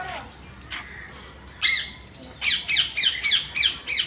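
Parrots and mynas at Bangladesh's national zoo give loud, harsh squawks: a few scattered calls early on, then a rapid run of about six close squawks near the end.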